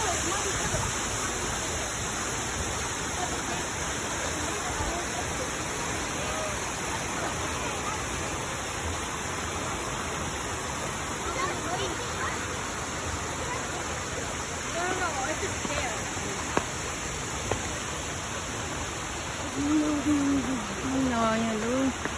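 Minnehaha Falls pours in a constant, dense broadband rush of falling water, steady and fairly close, with voices talking faintly underneath it and a brief higher sound near the end.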